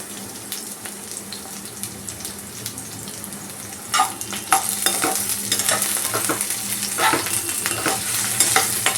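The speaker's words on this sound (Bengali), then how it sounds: "আমি একদম এইভাবে হালকা করে সতে করে নিচ্ছি।" Slit green chillies lightly sautéed with whole garam masala, quiet frying at first, then a louder crackling sizzle with spoon stirring and scraping in the pan, no voices.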